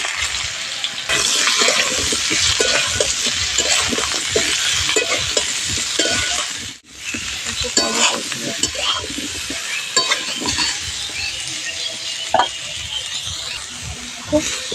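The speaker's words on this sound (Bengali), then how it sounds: "তেলের মধ্যেই সেদ্ধ করে রাখা এঁচোড়টা ভেজে নেব।" Boiled young jackfruit frying in hot oil, a loud, dense, continuous sizzle with bubbling and scattered crackles that dips briefly midway, close and steady.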